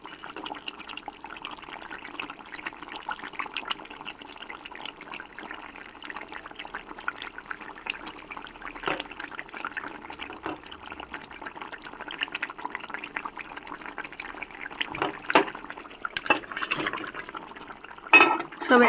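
Fish pieces, head included, go into a pot of cooking vegetables with soft ridge gourd, giving wet splashing and sloshing, with a few sharper liquid bursts near the end, under a speaking voice.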